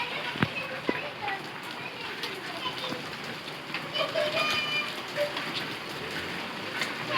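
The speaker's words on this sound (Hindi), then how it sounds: "ये बच्चे गए हैं बाहर सब्जी लेने के लिए और बारिश तेज़ हो गई है।" Heavy rain pours steadily outdoors during a power outage, a dense continuous hiss with scattered drops and splashes, while children's voices and adult talk come and go beneath the downpour.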